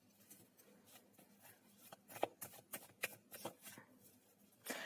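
Tarot cards are shuffled and drawn close by, making soft, quick papery riffles and slaps in uneven bursts that grow a little louder toward the end, with no talking over them.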